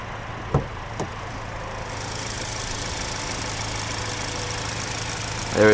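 The 2.5-litre turbo engine of a 2021 Kia Sorento SX Prestige X-Line idles with the hood open, a steady, even hum with a couple of faint knocks at the start.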